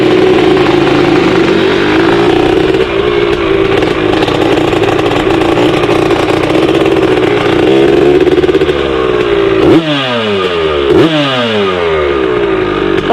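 A Honda TRX250R two-stroke ATV fitted with a Rekluse clutch drones loudly and steadily up close, then revs sharply twice with rising and falling pitch near the end.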